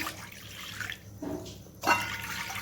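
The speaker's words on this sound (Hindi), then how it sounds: "पानी डालते हैं" Water poured into a pan for semolina dough in a home kitchen, a quiet splashing stream with a brief louder gush near the end, no talk.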